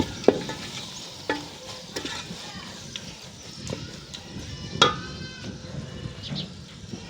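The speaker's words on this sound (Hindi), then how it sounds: "और अब मसाले को अच्छी तरह से एक दफ़ा हम भून लेंगे।" Spice masala for tori sabji being stir-fried in a pan, with intermittent spatula scrapes and knocks over a low sizzle, and a few sharper clanks standing out.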